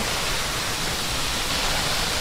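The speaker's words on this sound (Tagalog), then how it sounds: "Waterfall." Water rushes in a constant, loud roar, like a waterfall heard up close, with no break or other sound.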